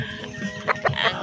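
Chickens clucking at a poultry sale, a few short close bursts over a low, steady background murmur.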